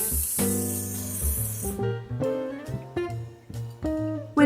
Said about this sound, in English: just spray a bit on my first layer here